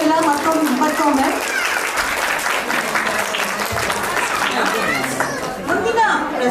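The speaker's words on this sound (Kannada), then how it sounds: "ಜೋರಾದ ಚಪ್ಪಾಳೆ ಬರಲಿ ಮಕ್ಕಳಿಗೆಲ್ಲ ಮತ್ತೊಮ್ಮೆ" Audience applause for children after their stage dance performance swells as a dense, sustained patter of clapping, with people chattering and talking loudly over it throughout.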